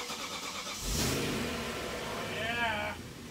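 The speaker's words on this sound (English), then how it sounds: "Car hasn't started in months. But listen to that." A BMW E38 7 Series engine cranks and fires after sitting unused for months over winter, with a loud burst of starting noise settling into a running idle while excited voices talk over it.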